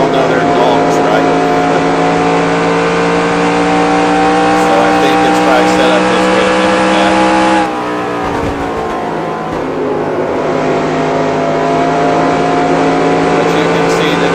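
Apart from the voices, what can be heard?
race car engine revving in video game NASCAR Racing 2003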